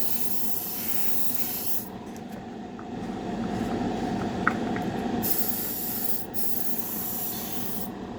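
A paint spray gun laying base coat on a 1932 Ford roadster hisses in a loud, continuous close-up rush, with its tone shifting a few times as the paint supply runs out.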